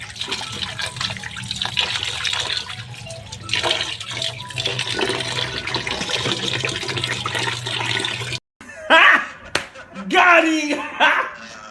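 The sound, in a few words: washing chicken liver and gizzard in water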